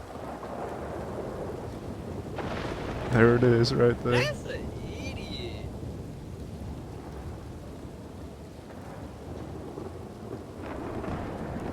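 Thunder cracks and rumbles after lightning strikes during a rainstorm in a Red Dead Redemption 2 roleplay game. A sharp loud burst fades into a long low rumble over steady rain while people talk.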